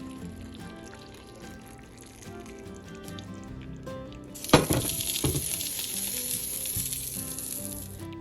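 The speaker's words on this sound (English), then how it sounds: "I had the ginger, scallion, and chili flake, and also hot oil. So pour over the spices and also the garnish" Hot oil is poured over ginger, scallion and chili flakes on top of beef and vegetables, bursting into a loud, sudden sizzle that continues as a steady crackling hiss after a quieter kitchen lead-in.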